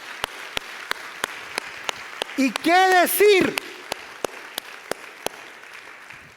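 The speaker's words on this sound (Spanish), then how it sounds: "le vamos a dar un fuerte aplauso al Señor por la vida de cada uno de ellos" A church congregation claps in a steady, fairly sparse rhythm of distinct claps while a voice speaks briefly over them partway through.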